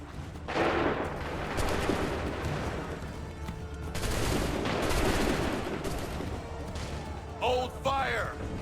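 A musket volley in Assassin's Creed 3: two loud, roaring bursts of massed gunfire with long rumbling tails, then a brief shouted voice near the end.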